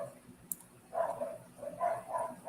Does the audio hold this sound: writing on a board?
no